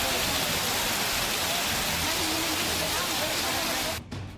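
Heavy rain pours steadily in a broadband wash of drumming water after clouds gather over Kapadvanj town in Kheda district, Gujarat, loud and continuous before cutting off near the end.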